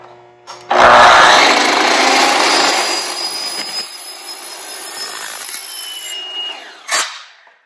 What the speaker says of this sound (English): To cut the aluminum cap rail for the horizontal system, just as long as you've got a non-ferrous metal blade on your chop saw or your power saw